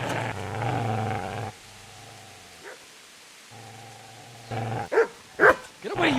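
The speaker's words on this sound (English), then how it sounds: "Get away, you mutt!" Dog barks and growls in the medieval game Kingdom Come: Deliverance, a sustained close rumbling growl broken by pauses, then a few sharp louder barks near the end.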